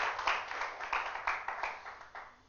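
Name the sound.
church congregation clapping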